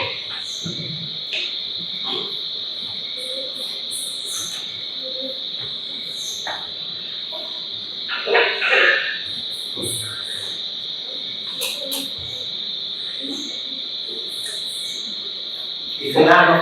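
Small frogs call at night alongside insects, a dense steady chorus of high trilling that runs throughout, with a few brief louder knocks and rustles close by.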